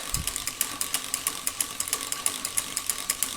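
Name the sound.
lapping Model T engine valve with grinding compound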